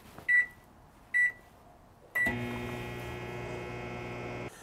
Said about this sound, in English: We're gonna run the microwave